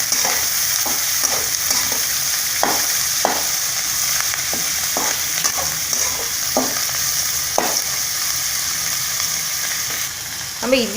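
Onions sauté in a pan with dried red chillies and coriander for idli upma. A steady, bright frying sizzle runs throughout, broken by repeated scraping stirs of a spoon.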